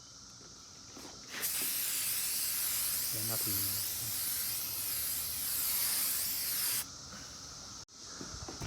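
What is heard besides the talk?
spraying clear coat on headlight from spray can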